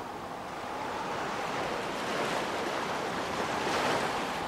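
Storm-driven sea waves surge against a coastal dike during a flood, with the landing stage and foreland already under water; a loud, continuous roaring rush of surf and wind swells steadily, with no talk over it.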